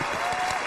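Audience applause in a Chinese TV job-show studio, a steady dense wash of clapping filling the short moment, loud and even with no voices.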